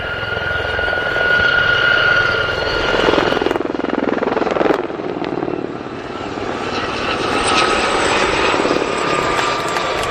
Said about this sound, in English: All 4 helicopters then. The break of the 2024 Gazelle Squadron.